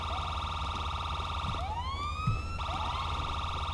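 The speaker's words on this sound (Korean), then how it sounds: "이렇게 꾹 누르시면은 다른 사이렌이 출력되는 것을 볼 수가 있습니다." An undercover police cruiser siren wails in GTA 5, a steady electronic warble that switches partway through to a rising whoop pattern, loud and close with faint background noise.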